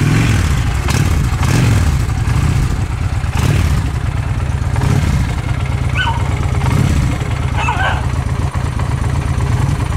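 A 2008 Honda Shadow Spirit 750 motorcycle idles and rumbles nearby with a steady low engine tone, while a dog barks several times over it and light clatter comes and goes.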